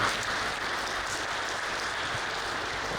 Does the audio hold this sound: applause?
yes